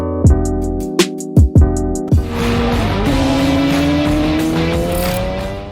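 A Yamaha Tracer 900 motorcycle with an Akrapovic full exhaust system gives several sharp, blipping throttle bursts, then a sustained, rising rev with a harmonic exhaust note, loud and close.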